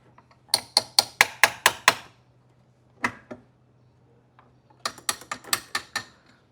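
A hand ratchet works stubborn screws on the brake master cylinder of a 1985 Mercedes-Benz W124, sounding as close, sharp clicking bursts of about six to eight rapid clicks, then a lone click and another quick run.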